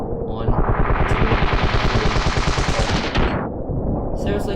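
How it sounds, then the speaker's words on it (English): Automatic gunfire in the Ravenfield video game as a whole magazine is emptied in one long, rapid, loud burst lasting several seconds. A few faint clicks follow once it stops. "since the fire is so fast, you can fire off that whole mag in really not much time"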